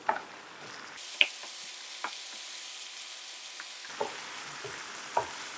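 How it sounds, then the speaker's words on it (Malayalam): Diced chicken fries in a pan with oregano and thyme for a fennel chicken florentine, giving a steady close broadband sizzle with a few sharp ticks and pops scattered throughout, no talking. "നമ്മൾ ഡൈസ് ചെയ്തിരിക്കുന്ന ചിക്കൻ ആഡ് ചെയ്ത് കൊടുക്കുക"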